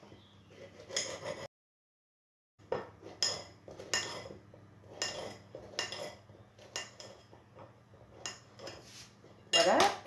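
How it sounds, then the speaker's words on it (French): A knife chopping small sausages into pieces on a board, with sharp, irregular taps and clinks, close and crisp, separated by short pauses and one brief silent gap. "Je vais maintenant couper en petits morceaux mes petites saucisses."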